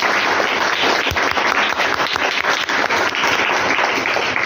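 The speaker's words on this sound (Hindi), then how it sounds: "उसके लिए ताली बजाइए।" Sustained applause from an audience celebrating the winning team at a children's general knowledge quiz contest, dense continuous clapping at steady loudness throughout with no voices.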